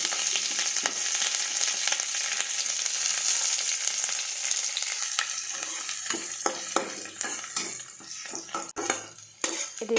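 Onion, curry leaves, green chili and ginger sizzle loudly in hot oil for tapioca adai, a steady frying hiss with a spoon stirring and scraping the pan, the sizzle easing toward the end.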